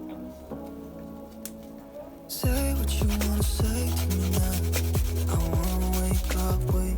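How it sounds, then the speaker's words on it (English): Garlic being grated for cheesy potato meatballs, heard as quick repeated rasping strokes after a quieter start, close and steady over a humming background. "I ain't gonna crush the garlic, I'm just gonna grate the garlic"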